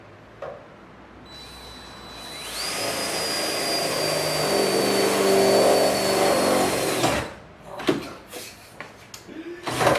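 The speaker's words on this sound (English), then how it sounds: "Andrew is going to put a hole in my car" A power drill bores a hole into the body of an NB Mazda Miata in a home garage. Its whine winds up, holds loud and steady for about five seconds, then cuts off and is followed by a few sharp clanks.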